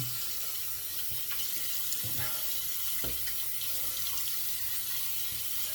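Tap water runs steadily to wet the head of a boar-bristle shaving brush at a bathroom sink, a continuous close hiss and splash with a few louder splatters as the brush moves under the stream.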